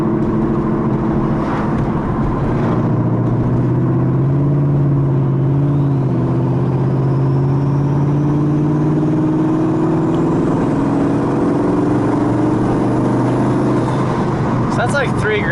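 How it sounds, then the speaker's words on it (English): Turbocharged car engine cruising at steady load, a loud continuous drone with a faint rising whine throughout, with people talking over it. "this damn turbo sounds badass just cruising around."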